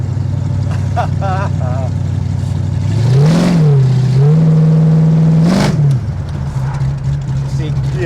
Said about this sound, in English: I've got a switch that opens exhaust up